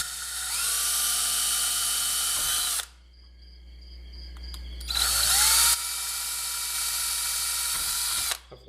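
A power drill with a 1/16 inch bit bores holes in a small pedal board enclosure: two sustained high whining bursts of about three seconds each, separated by a short pause, close and loud.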